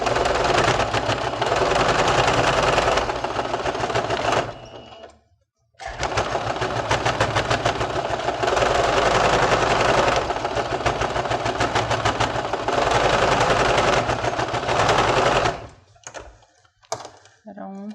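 A sewing machine runs in long continuous bursts of rapid stitching, stopping briefly between passes as it sews back and forth over a seam for a kitchen craft project; loud and close.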